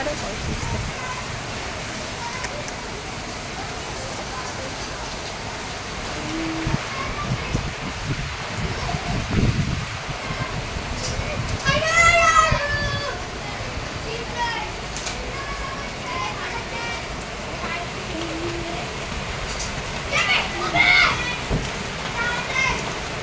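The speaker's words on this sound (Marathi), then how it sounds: "कसा पाऊस पडतोय" Heavy monsoon rain with gusting wind pours steadily in Mumbai, a dense continuous wash of drops with the wind rising and falling, while children's voices and chatter come and go over it.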